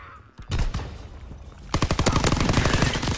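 Gunfire in a WWII shooter game: a few scattered shots, then a dense, rapid run of automatic fire cracking close and loud.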